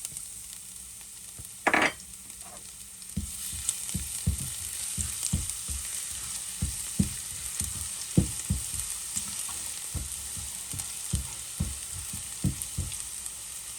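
Garlic frying in a pan for carbonara spaghetti sizzles steadily, with a sharp clatter early on, then rhythmic scraping strokes of a spatula stirring.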